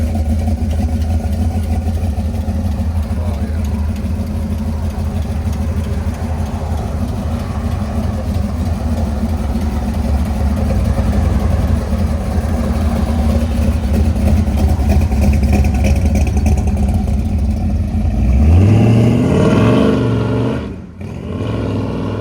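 A 1969 Chevy C10 truck's 383 stroker V8 with headers and Flowmaster 40 Series exhaust idles steadily with a lumpy rumble, then revs up sharply near the end before dropping back.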